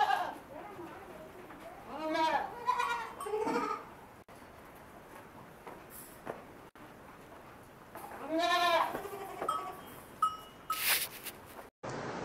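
Pallai goats, a native Tamil Nadu breed, bleat repeatedly, loud and close, in bursts of wavering cries with a gap between them, over rustling farmyard background noise.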